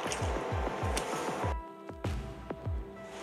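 Mixed water from a mixer jar pouring into a pan of white kurma being cooked, heard as close wet splashing and bubbling pops at a steady pace, easing into sparser drips toward the end.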